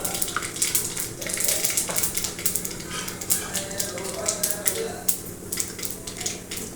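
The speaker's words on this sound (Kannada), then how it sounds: "ಸಾಸಿವೆ ಚಿಟ್ಪಟ ಆದ ನಂತರ ಜೀರಿಗೆ ಅರ್ಧ ಚಮಚದಷ್ಟು ಹಾಕ್ತಾ ಇದ್ದೀನಿ" Mustard seeds splutter and cumin seeds fry in hot oil for capsicum rice, giving a steady close crackle and sizzle with scattered sharp pops throughout.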